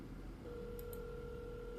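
A phone call in progress, with a faint steady electronic tone that starts partway in and holds, joined by two quick high beeps, all quiet over a low background hum.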